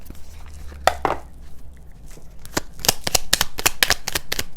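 Moon Magic tarot cards being shuffled in quick bursts of crisp riffling flutters, with a louder run of rapid card snaps toward the end, close and alone without talk.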